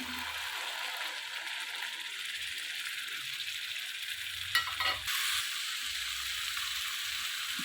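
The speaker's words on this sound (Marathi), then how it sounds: "आता आपल्याला त्यामध्ये टोमॅटो प्युरी जी आहे ती ॲड करायची आहे" Tomato puree added to a frying masala for shahi kaju paneer, giving a steady soft sizzle with faint stirring scrapes and a brief louder clatter midway.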